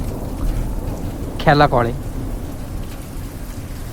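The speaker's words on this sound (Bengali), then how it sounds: "মাঝে মধ্যেই শুরু হয়ে যাচ্ছে বৃষ্টি" Rain falling on a mountain road in North Sikkim, a steady broadband hiss throughout, briefly interrupted by a short burst of speech in the middle.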